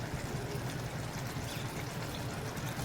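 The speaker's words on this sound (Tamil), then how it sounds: "புளி தண்ணியை சேர்த்துட்டு நல்லா ஒரு ஒரு டைம் மிக்ஸ் பண்ணி விட்டுக்கிறேன்" Tamarind water poured into a pan of okra kara kuzhambu (tangy Tamil tamarind curry), giving a steady, close, continuous gush and splash with no voices.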